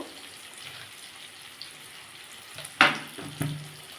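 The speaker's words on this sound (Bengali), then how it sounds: "এটাকে বন্ধুরা ভালো করে কষে নেবো" Cauliflower pakoda curry masala with turmeric and salt sautés in a pan, giving a soft, steady sizzle with sharp stirring scrapes near the end and no talking.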